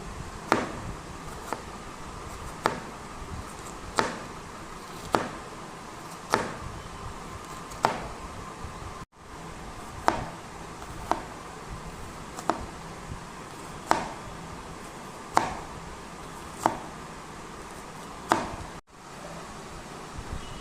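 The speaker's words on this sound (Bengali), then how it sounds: "পেঁয়াজটা যেন একদম সরু করে কুচানো হয়" A knife finely chopping onion on a board, a steady series of sharp, evenly spaced chops roughly every second and a quarter, close and clear over a faint background hiss with no talk.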